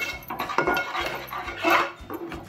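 Semolina being stirred into mango syrup in a pan for rava laddu, a close scraping and clinking of a spoon against the pan in uneven strokes, with no voices.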